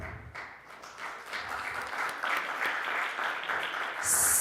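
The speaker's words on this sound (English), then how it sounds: "Can we give Alisa a round of applause?" Applause rises from the audience at a conference panel, a moderate, continuous spread of clapping that builds slightly and holds steady.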